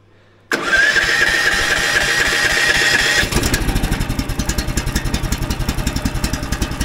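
A homemade Snowdog motorized sled engine starts up, first a steady cranking whir for a few seconds, then catching and running with a rapid, even chugging pulse close by.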